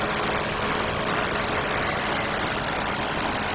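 A Hyundai Stargazer engine with a misfire runs steadily at idle, heard up close as a continuous, even mechanical hum with a faint knocking texture and no talking.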